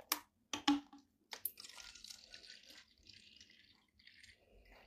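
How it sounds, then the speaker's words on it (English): Water is poured into a container, a soft splashing trickle that begins after a few sharp clicks and knocks and runs for a couple of seconds before thinning out, quiet and close. "Then I will be just using this one, just pouring water"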